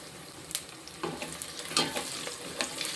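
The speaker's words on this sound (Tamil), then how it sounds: "இப்போ இதில் வந்து முந்திரி பருப்பு போட்டுக்கிடுவோம்." Cashew nuts sizzling in oil in a pan while making pea pulao, a soft steady fry with light crackles and occasional stirring scrapes, fairly close and quiet, no talk.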